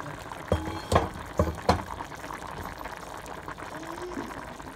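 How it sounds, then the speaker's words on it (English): A lid lifts off a pot of simmering Caldo Verde, Portuguese kale and potato soup, giving a few sharp metallic clinks followed by soft, low bubbling. "I'm gonna open the lid."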